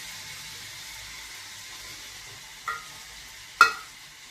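Boiled rajma (kidney beans) with taco sauce sauté quietly in a pan, a faint steady sizzle broken by two sharp metallic clinks of a spoon against the pan near the end, close and otherwise calm, with no talking.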